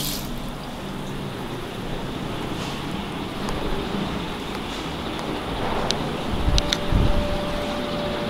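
A hotel room fan's steady whooshing hum of air runs throughout, even and constant, with a few faint clicks and bumps near the end.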